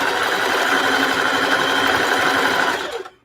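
A sewing machine runs at steady speed, its needle mechanism whirring in a fast, even rhythm close up before stopping abruptly near the end.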